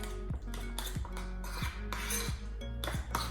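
Keto cloud bread batter being mixed in a bowl, with a utensil scraping and clinking against the sides in a regular rhythm of repeated strokes, close and clear.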